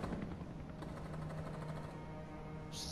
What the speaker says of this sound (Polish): Strzały się chyba oddaliły.